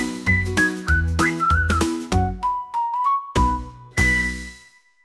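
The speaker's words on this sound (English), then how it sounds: "whistle high, whistle low, whistle fast or slow." Clear whistling with a melodic line of high, sustained notes, accompanied by a backing of rhythmic plucked or keyed instrumental music.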